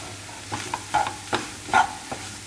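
Spices and stuffing mix for stuffed capsicum, with coriander powder, mango powder, garam masala and coriander leaves, are stirred in a hot pan: close, repeated scraping strokes over a soft, steady sizzle.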